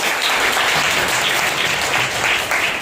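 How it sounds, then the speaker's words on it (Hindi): A Sunday church congregation breaks into loud, dense clapping that fills the room evenly for a few seconds, with no voices heard over it. "एक जोरदार ताली बजाइए।"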